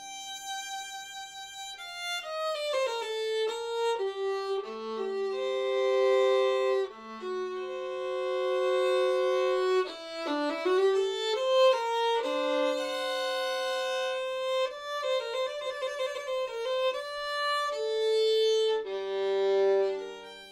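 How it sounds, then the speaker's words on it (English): Violin bowed with a pernambuco horsehair bow, playing long flowing legato phrases with clear sustained notes and smooth slides, close, solo and fairly loud, with no voices. "when I pull the bow across the strings of the violin"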